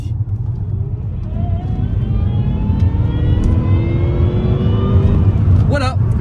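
A supercharged 4-litre V8 of roughly 406 horsepower revs up, building a loud, rising engine note whose pitch climbs steadily over several seconds under heavy low rumble, with a brief voice near the end.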